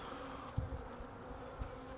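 Honeybees buzz inside a hive over the brood area where young bees are emerging, a soft, steady hum close to the comb with a couple of brief low bumps.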